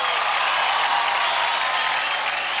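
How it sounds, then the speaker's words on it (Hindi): Loud, sustained applause from a studio audience at a televised children's dance competition, a dense wash of clapping that holds steady throughout with no voices on top. "ज़ोरदार ताली हो जाए"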